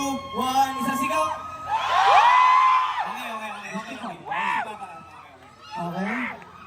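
A crowd at a concert event at UP Diliman whoops and cheers loudly in several rising bursts, with the middle swell the longest and loudest.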